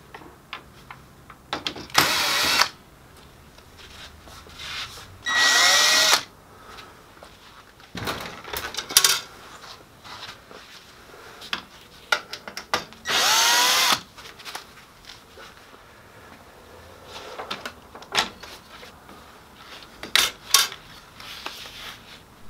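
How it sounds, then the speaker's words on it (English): A power screwdriver whirs out the top and side screws of a transfer belt cleaner on a Ricoh MPC copier, in several loud bursts of a second or two each, separated by clicks and handling noise. "Remove the two securing screws on the top and the two screws on the sides of the transfer belt cleaner."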